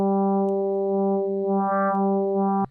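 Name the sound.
guitar-like FM synth tone from Native Instruments FM8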